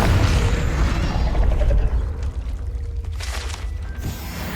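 Confringo fire spell blasting in the wizarding game Hogwarts Legacy, a loud booming explosion with a low rumbling burst that fades into crackling debris and a brief later flare.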